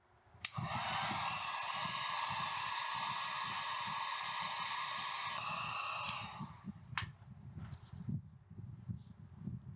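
A heat gun blowing hot air onto a Kydex sheet while shaping a knife sheath, a steady close whooshing hiss for about six seconds before cutting off, followed by faint handling sounds.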